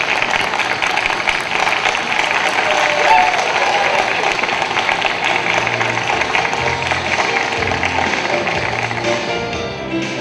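A conference audience at a business summit on Mindanao gives a warm, sustained round of applause, dense steady clapping from many hands filling the room, with a voice faintly beneath it.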